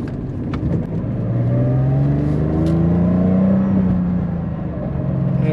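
Porsche Carrera 3.2 accelerating hard, its engine note rising steadily in pitch through a long, loud, close rev, then easing off slightly with a faint whir, with no talking.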